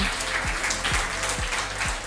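An audience briefly claps for a third-place team at a health-tech accelerator final pitch event, a short burst of steady clapping with some low rhythmic thumps underneath.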